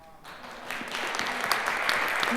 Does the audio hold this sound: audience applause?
yes